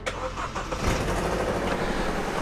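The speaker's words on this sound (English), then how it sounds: "all it leaves us to do is turn the car on. If it turns on, which it doesn't, let's try that again." A Vauxhall Astra with head gasket trouble cranks over noisily without catching, a short, rough churning burst heard close up.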